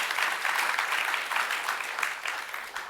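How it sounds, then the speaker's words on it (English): Steady audience applause for a speaker at a water economics commission event, a dense even patter of many hands clapping alone for about three seconds, fairly loud and sustained. "can we get a big round of applause for him?"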